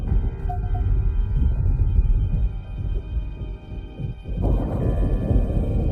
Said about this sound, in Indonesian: Masih takut petir?